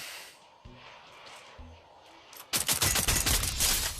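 Rapid automatic gunfire from a new gun in the Free Fire mobile shooter, a loud dense burst of shots in the last second and a half after quieter game ambience with a few dull thumps.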